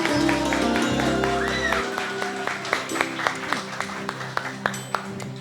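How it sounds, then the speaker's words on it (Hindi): An audience claps along to music on a Sindhi television game show, the claps settling into a steady rhythmic beat over the melody after the first couple of seconds. "आप शुरू करें तालियां बजाना भाई हमारा काम है"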